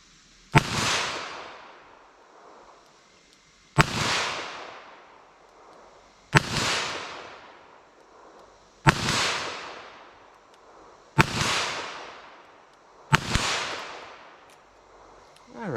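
Six evenly spaced gunshots from a .22 WMR rimfire firearm, fired at a target about 40 yards away outdoors. Each is a sharp, loud crack with a ringing decay, spaced roughly two and a half seconds apart.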